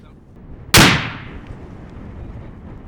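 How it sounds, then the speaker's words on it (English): One sharp, loud grenade blast cracks out on a military firing range, followed by a decaying rumble and faint distant echo over low outdoor background. "Grenade!"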